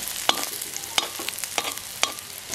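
Onions sautéing in oil with fenugreek, a close crackling sizzle punctuated by four sharp spatula strikes and scrapes against the pan at roughly even intervals, with no one talking.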